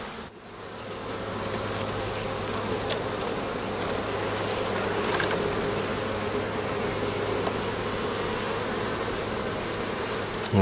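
Honeybees buzz steadily inside an open hive, a dense, close drone that holds even throughout with no voices.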